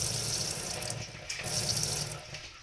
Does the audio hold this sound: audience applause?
no